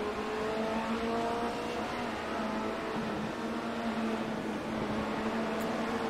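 Formula Renault 2.0 race cars in a racing video game at Zandvoort drone along the straight with a steady, sustained engine whine, constant and fairly loud, several cars running close together without any voices heard.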